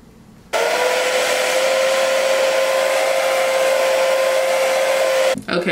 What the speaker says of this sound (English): I'm just blow drying until the glue is clear